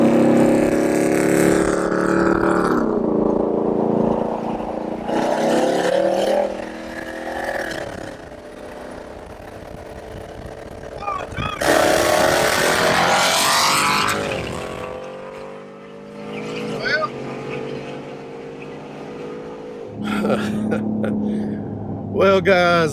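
Loud pickup truck race, a stock 2021 Ford F-150 5.0-liter V8 against a supercharged F-150: engines rev and roar in repeated bursts, pitch climbing through gear changes, with rushing passes and brief lulls between runs.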